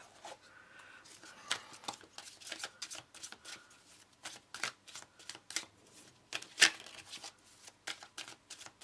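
Tarot cards being shuffled by hand in repeated quick riffles and soft slaps, close and fairly quiet, with irregular bursts and short gaps.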